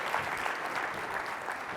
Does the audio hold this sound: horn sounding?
no